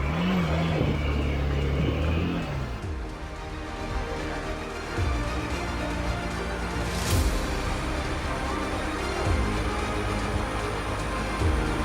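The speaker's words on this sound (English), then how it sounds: "The tire is losing traction." Hero Xpulse 200 motorcycle on an off-road trail in Goa, its engine revving in repeated bursts that rise and drop as the tire loses traction, close and steady over wind noise.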